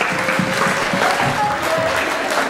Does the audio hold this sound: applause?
yes